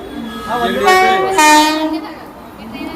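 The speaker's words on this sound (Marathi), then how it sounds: "तर हे बघा ट्रेन आले" A train at Dahisar station on the Mumbai suburban line sounds a loud, wavering horn up close over rumbling rail noise, the blast swelling and then fading.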